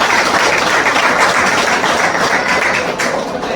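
Audience applause at a calendar release ceremony of the Shri Ranbhairi Warkari Sampradaya Mandal: a dense, loud, steady wash of many hands clapping that holds evenly throughout, with no voices over it.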